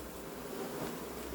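A honeybee swarm buzzes around a comb, a soft continuous drone close by, with a brief louder thump at the very end.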